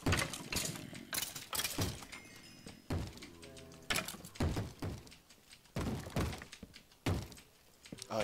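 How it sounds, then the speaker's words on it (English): Zombies pound on doors in Minecraft, a series of irregular heavy thunks and knocks spread across several seconds, fairly faint, with short gaps between the blows. "I hear pounding. Yeah, the zombies are out in force today."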